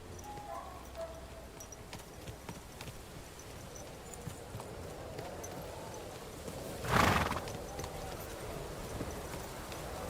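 A horse in Kingdom Come: Deliverance 2 clip-clops steadily on the ground at moderate distance, with one sharp, loud whinny rising near the end over a low ambient outdoor bed.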